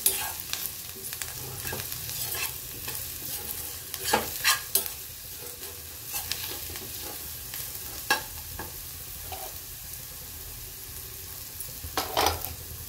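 Baingan bharta stirred and mixed in a pan, a utensil scraping and tapping at irregular intervals over a faint, steady frying hiss.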